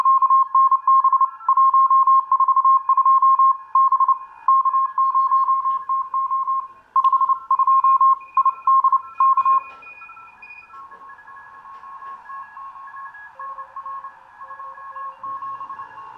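Morse code CW signals come through a radio receiver driven by an Si5351 clock generator as loud, keyed beeps of one steady tone that break into dots and dashes, then shift and fade into fainter, wavering tones as the tuning moves on.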